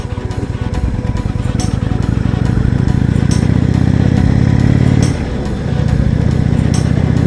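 A 2018 Indian Chieftain Limited motorcycle being ridden, its engine loud and close with a steady, throbbing drone that briefly drops off near the end before picking back up.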